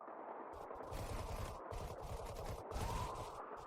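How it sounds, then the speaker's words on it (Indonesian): Rapid bursts of automatic gunfire in a dubbed action film firefight against fast zombies, loud and close, with short gaps between volleys and no talk. "Kami sedang dalam baku tembak."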